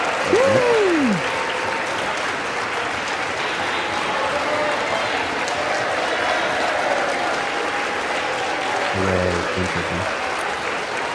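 Members in the House chamber applaud steadily during the speaker vote count, a loud, sustained wash of clapping from a large crowd, with a few brief vocal calls rising out of it.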